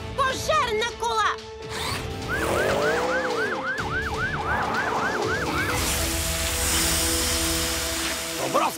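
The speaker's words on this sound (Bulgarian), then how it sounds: "Пожарна кола!" A wailing fire engine siren in a PAW Patrol cartoon rises and falls repeatedly, then shifts to a steady tone, layered with music and voices.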